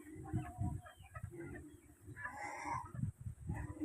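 Chickens on a flooded home farm cluck softly and steadily in the background, several close low calls mixed with rustling and ambient noise.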